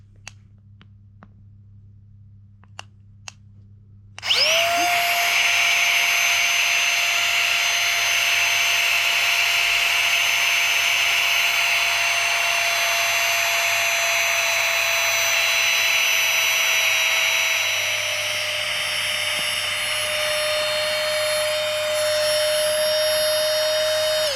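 A small electric pump inflating a camping sleeping pad starts after a few light clicks and runs as a loud, constant, close whine, its tone easing slightly near the end.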